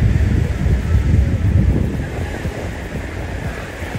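Waves surge and wash up Baga Beach in Goa, heard as a loud, churning roar with rolling swells, mixed with gusty wind buffeting the microphone while someone walks along the shore; no voices.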